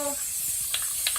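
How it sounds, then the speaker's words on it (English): A spray paint can hisses in a continuous bright spray, covering yellow surfaces with white paint during an RV renovation, with faint small clicks underneath. "I'm gonna spray to change this from the yellow"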